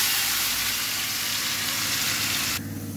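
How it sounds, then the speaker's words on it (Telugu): Pieces of meat fry in hot oil in a pan with ginger and garlic, giving a loud, steady, close sizzle that drops abruptly near the end. "తగినంత ఆయిల్ వేస్తాను. ఇప్పుడు యాడ్ చేద్దాం ముక్కల్ని."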